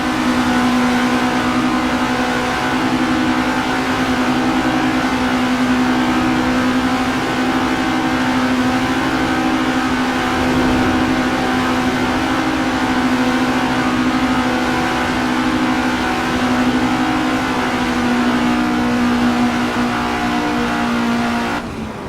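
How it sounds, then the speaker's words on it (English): Race cars in the Assetto Corsa video game drag race on a foggy track, one engine's loud sustained drone holding high and steady for a long stretch with a faint tire hiss beneath. "Bit of a drag race here."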